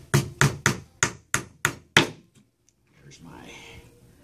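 Nails are hammered into a wooden beehive frame on a solid surface. Seven sharp, evenly spaced wooden whacks land close and loud, then quiet follows with faint background noise.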